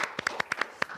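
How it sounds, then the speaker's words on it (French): A small audience claps in a brief burst of about eight separate, fairly close hand claps, uneven in rhythm and spaced over one second. "Bah, applaudis quand même."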